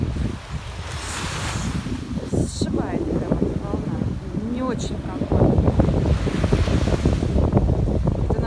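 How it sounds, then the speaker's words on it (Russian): Caribbean sea waves breaking on the sandy shore of Tobago, repeated close surges of surf over heavy wind buffeting the microphone, with someone talking throughout. "Вот такие волны."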